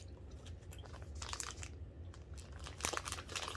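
Someone chews Randoms sweets close to the mic, with soft wet crunching and crinkling bites repeating irregularly over a few seconds.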